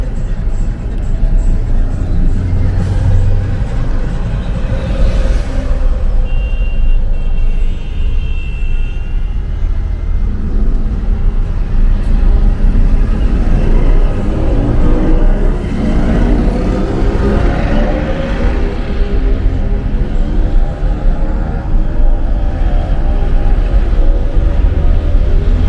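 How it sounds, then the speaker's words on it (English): Evening city traffic in Bogota, Colombia: a continuous loud rumble of passing cars and buses with engine drone swelling and fading, no clear voices. "I just want to show you some of the evening traffic."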